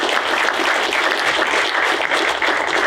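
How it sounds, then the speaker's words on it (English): A seated audience at a sports marketing night applauds steadily for about three seconds, a dense, even patter of many hands with no voices over it. "So let's give a round of applause to Brandon and to Eric"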